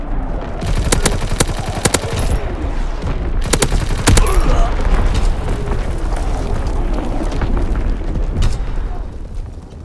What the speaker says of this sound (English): Firing battery one. Target position confirmed. Dropping Azon bomb.